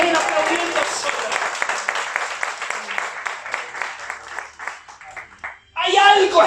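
Church congregation breaks into sustained, dense rhythmic clapping that gradually thins out, and then a preacher's voice returns, loud and close.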